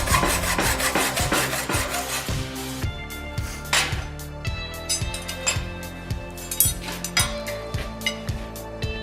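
A hand saw cuts through a 3/8-inch round steel bar during blacksmith tong making, producing a steady rhythmic rasping stroke after stroke with metallic ringing, close and alone.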